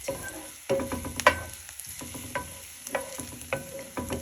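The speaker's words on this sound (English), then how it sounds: "We're gonna cook egg, scrambled egg in a skillet, cast iron skillet." Scrambled eggs cook in a cast iron skillet, a low sizzle broken by repeated scraping and stirring strokes of a utensil against the pan, close and fairly clear with no talk.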